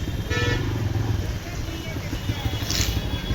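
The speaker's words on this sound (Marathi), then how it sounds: "तर आता आपण इथंच गाडी लावूया." A motorbike is eased into a parking spot on a crowded street, its engine murmuring beneath busy traffic noise, with car horns tooting nearby and people talking.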